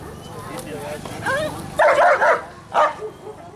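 At a protection dog demonstration in Bulgaria, a dog gives a few close, sharp barks and yelps in quick bursts as someone speaks over it.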